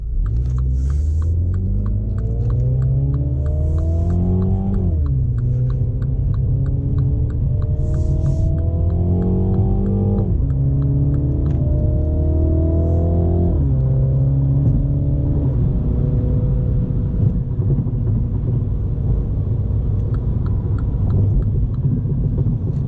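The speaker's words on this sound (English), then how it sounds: "That's driving the car with the sport automatic, sport mode in the driving modes" A MINI JCW F56 hardtop with an 8-speed automatic in sport mode accelerating on a highway, engine note climbing steadily then dropping with each upshift, repeated several times under a constant low road rumble.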